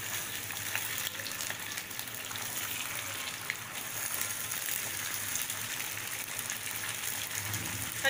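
Clams sautéing in a hot pan for a Marathi clam masala curry give a steady, soft, watery sizzle that runs without a break, close and fairly quiet.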